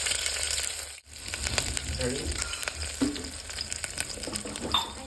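Green chillies hit hot oil already crackling with mustard seeds while cooking urad dal, giving a loud, steady sizzle with scattered sharp pops and light clinks, broken by a momentary drop near the start.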